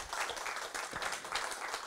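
Audience applause at a closing session of a conference, a dense and steady wash of many hands clapping throughout, fairly loud and sustained with no voices over it.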